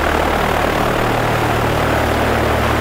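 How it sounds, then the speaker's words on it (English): Biplane engine droning in the Skygunner video game, a steady, loud propeller hum held evenly throughout with no voices over it. "We are not jet pilots, we're in biplane."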